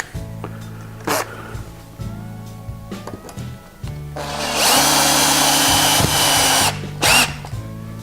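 Power drill driving bolts into the top of an industrial-style shelf, loud whirring bursts that start and stop, with one long sustained run in the middle and short revs around it.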